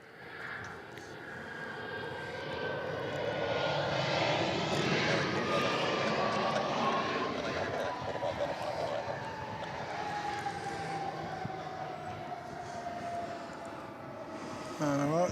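A Qantas jet airliner at Melbourne Airport roars past fairly close, its engine rumble swelling and holding loud with a falling whine before easing off, a voice breaking in briefly near the end.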